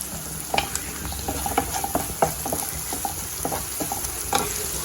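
Bottle gourd and ivy gourd fry in a pan with salt, a steady close sizzle broken by repeated scraping and stirring strokes.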